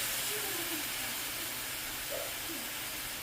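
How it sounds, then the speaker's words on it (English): Alcohol and lemon juice simmer in a pan for sliders, a steady soft hiss of cooking liquid running throughout with a couple of faint tonal blips, no voices. "I'm going to do 1/3 cup of the alcohol in and let this cook out."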